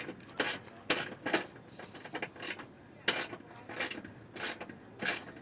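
A wrench cranks down the bolt on a console table bracket in rapid bursts of ratcheting clicks, close and fairly quiet, separated by short pauses.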